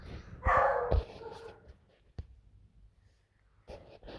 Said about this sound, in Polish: Psy mi zaczęły szczekać.